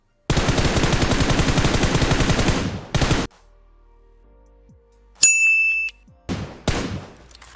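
Automatic gunfire in the mobile battle game PUBG Mobile bursts loudly for a few seconds, then a pause gives way to metallic clicks and clanks of a magazine reload, followed by more shots.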